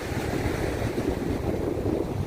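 Atlantic Ocean surf at Coney Island in Brooklyn, a steady, loud wash of breaking waves mixed with wind buffeting the microphone, continuous with no voices.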